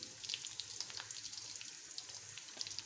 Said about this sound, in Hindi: मैं घी यूज़ करती हूँ, आप ऑयल भी इस्तेमाल करना चाहते हैं तो कर सकते हैं। अब इसमें मैं कटे हुए 2 अदद मीडियम साइज़ के प्याज डालूँगी